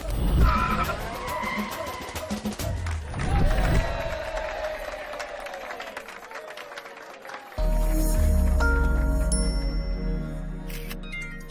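In a Telugu comedy movie scene, a car pulls away with loud tire skids and engine noise, heard as several bursts of screeching over background music and effects.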